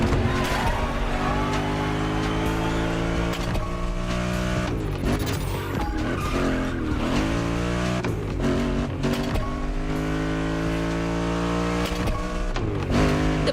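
BMW Z4 M40i roadster engine in the video game The Crew Motorfest, a strong revving drone that climbs and drops through gear changes with brief tire squeal, loud and continuous.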